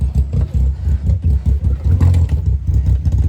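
A Can-Am X3 side-by-side that had been losing power runs close by at a ranch trail, with a steady low rumble whose pitch wavers slightly as the throttle shifts.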